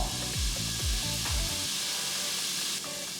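Chickpeas hit a hot pan and sizzle loudly, with several clattering drops as they tumble in, then a steady frying hiss carries on alone.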